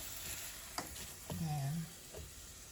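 Shrimp or patacones frying in hot oil, a soft steady sizzle with faint crackles and a few light knocks from the pan.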